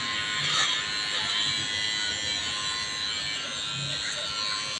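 Electric hair trimmer cutting a girl's hair, a continuous close high-pitched buzz running steadily for the whole stretch with slight wavering, no speech.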